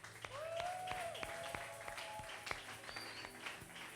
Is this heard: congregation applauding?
yes